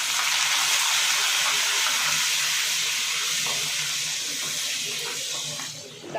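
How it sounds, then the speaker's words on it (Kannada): Dry red chillies, crushed garlic and curry leaves fry in hot oil in a pan, a steady loud hissing sizzle that fades slightly near the end, with no talking. "ಇದೆಲ್ಲ ಸ್ವಲ್ಪ ಫ್ರೈ ಆಗಲಿ"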